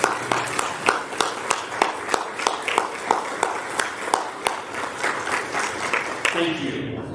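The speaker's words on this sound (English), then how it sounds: "if you would stand and join me in applauding this group of remarkable employees" A standing ovation for a group of employees at a convocation keynote: steady, loud applause from a large audience with sharp rhythmic claps standing out, tapering near the end as a voice comes in.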